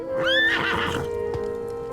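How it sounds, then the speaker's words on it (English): A horse whinnies loudly and close in an audio drama scene, a rising shrill neigh that breaks into fluttering snorts, with faint hoof clops and a steady tonal hum beneath. "Was that a horse?"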